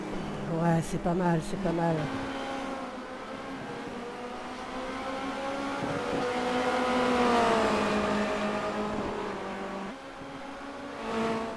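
A Formula Renault 2.0 race car accelerates at full throttle around Zandvoort, its engine note rising in a steady climbing whine for several seconds. Someone talks over it near the start and end.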